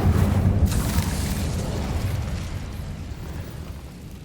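An Incendio fire spell cast in Hogwarts Legacy bursts with a loud, close whoosh and rumble that quickly peaks and then decays into a fading crackling roar.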